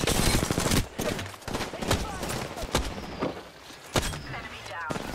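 Rapid automatic gunfire in the video game Apex Legends, a loud dense burst at first, then scattered cracking shots and thumps, close and prominent.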